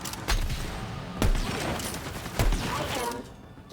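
Sniper rifle gunfire in the shooter video game Borderlands 3, with several sharp loud shots at roughly one-second intervals amid dense game effects and background noise.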